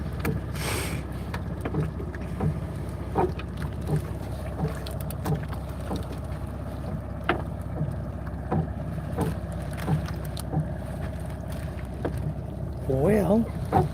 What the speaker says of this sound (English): big diesel engine